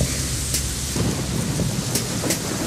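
Steady heavy rain with rumbling thunder fills a scene from Metal Gear Solid 2 as a man walks through the storm, a dense, continuous downpour with a few sharp crackles breaking through.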